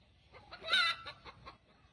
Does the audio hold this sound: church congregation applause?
no